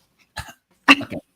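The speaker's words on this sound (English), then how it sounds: "And you have to start coughing the day before." A person coughs twice, a short muffled cough followed by a stronger double cough, close and alone against silence.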